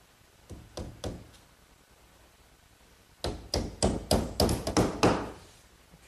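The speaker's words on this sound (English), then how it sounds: "I'll fasten it with these little 5-penny box nails." Small 5-penny box nails are hammered into a bookcase cabinet back, a few spaced taps at first, then a quicker run of louder, sharp blows, close and without talk.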